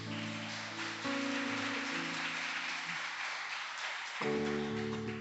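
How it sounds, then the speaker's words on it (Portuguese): A church congregation applauds during a celebration service, a steady wash of clapping heard over sustained keyboard chords, loud and continuous without speech. "e dá um aplauso para Jesus."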